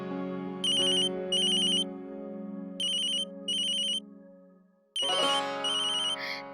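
A phone ringtone plays in repeated bursts of bright electronic tones over a soft melodic backing, loud and close.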